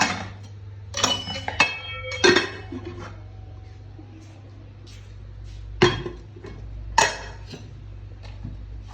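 Dishes and pots clattering in a home kitchen, several distinct metallic clinks and clanks scattered across the span against a steady low hum, fairly close.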